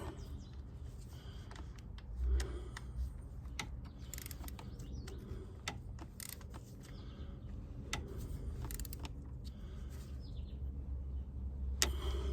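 A handful of sharp, faint clicks from a torque wrench set to 89 inch-pounds, irregularly spaced over a low, steady background hum, during VVT solenoid replacement on a Cadillac XT5.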